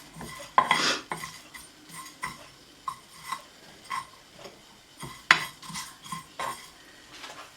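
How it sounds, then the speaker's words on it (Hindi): A spoon stirs roasting spices and sesame seeds in a dry pan, making a quiet series of irregular metallic clinks and scrapes with short gaps between strokes. "तो इसको भी बीच में थोड़ा चमचा हिला लेते हैं"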